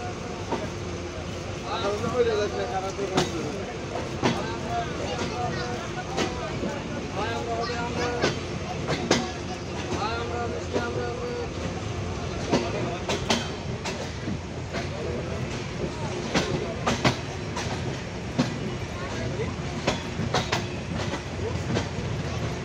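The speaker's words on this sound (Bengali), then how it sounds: "চিত্রা এক্সপ্রেস ট্রেন ছেড়ে যাচ্ছে পাবনা জেলার চাটমোহর রেল স্টেশনে 3 মিনিটের পরিবর্তে 5 মিনিটের যাত্রা বিরতি শেষ করে" Chitra Express pulling out of Chatmohar station in Pabna district, Bangladesh, with a continuous rolling rumble and repeated rhythmic clacks of wheels over rail joints; talk can be heard faintly over it.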